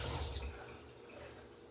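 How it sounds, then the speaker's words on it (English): Tap water runs steadily into a kitchen sink during hand washing while a pot roast is prepared, a soft continuous splash that starts a little stronger and settles, with no talk. "I'm going to wash my hands right quick."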